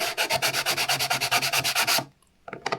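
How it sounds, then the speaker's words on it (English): Sandpaper folded around a stick rubs against the walls of a macropad case in quick, even back-and-forth strokes. The close, loud scratching rasps for about two seconds, then stops, followed by a couple of brief scrapes. "take a flat piece of sandpaper off the roll, fold it around the stick, and it should fit snugly up against the walls"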